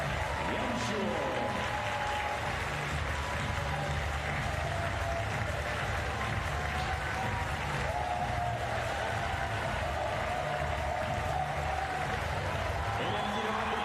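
Applause greets a Paralympic standing men's singles table tennis champion at Paris 2024. A large arena crowd claps steadily and at moderate volume for the full stretch, with murmuring and an announcer's voice faintly heard within it.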